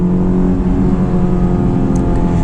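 A Honda S2000 AP2's high-revving inline-four with titanium connecting rods drones loud and steady, a continuous close engine tone with no break.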